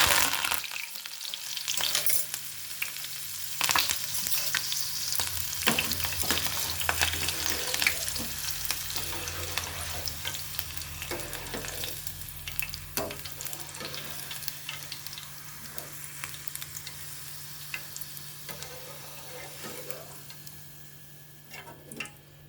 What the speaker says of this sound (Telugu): రెండు పచ్చిమిర్చి వేగించుకుందాం. అందులోనే కరివేపాకు.